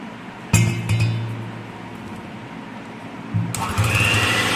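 Egg yolks are beaten with sugar for a tea cake batter: a close mechanical whirring with light clinking against the bowl, coming in two steady bursts separated by a brief lull.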